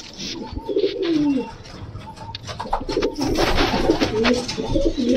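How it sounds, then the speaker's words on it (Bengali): Pigeons coo repeatedly inside a loft of high-flying Indian pigeons, the low rolling calls close and steady, with occasional chirps and rustling around them. "এই ওপরে আরও পায়রা রয়েছে, এখানে একটা বাচ্চা হয়েছে"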